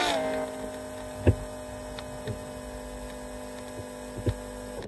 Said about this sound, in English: I'm just gonna set you right above where the fuel pump is so you can hear it real good.